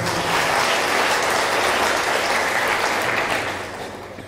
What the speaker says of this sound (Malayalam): ഒന്ന് കൈയടിച്ച് കർത്താവിന് നന്ദി പറയാം